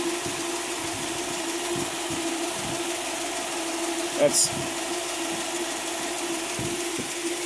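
A 1957 Chevrolet Corvette engine idles steadily at low volume, with a brief mechanical click partway through and a single word spoken.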